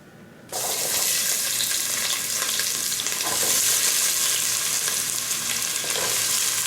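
Onions hit a hot pot for bouillabaisse broth with a sudden burst of loud, dense sizzling that holds steady and close for several seconds, with no voices.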